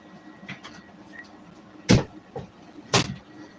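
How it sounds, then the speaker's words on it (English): A door in a house is pushed shut, landing as two sharp thuds about a second apart over a quiet room, with faint handling noises before them. "Shut the door for me, man."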